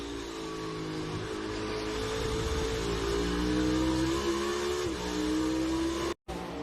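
A NASCAR race car engine at the Charlotte Roval during the 2022 Bank of America Roval 400, a loud, sustained roar rising gradually in pitch as the car accelerates, briefly cut near the end.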